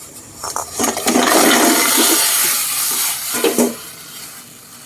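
Sea snails boil in a pot of water on the stove, a loud rushing, bubbling wash with sputtering surges that rise and ease, no voices.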